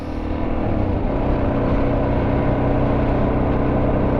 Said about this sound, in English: did I mention we're cruising around on our DRZ 400?